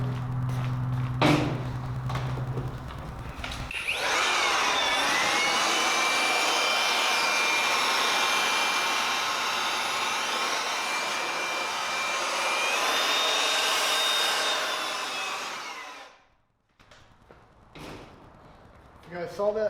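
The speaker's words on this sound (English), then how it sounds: "now we're gonna grab our heat gun." A heat gun blows hot air during a SunTek Ultra paint protection film install on a car, a loud steady whooshing roar lasting about twelve seconds before cutting off, with brief talk and handling noises around it.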